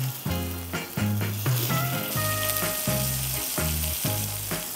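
Oil sizzling in a hot cast iron pan: a steady bright hiss running under prominent rhythmic background music, with no speech.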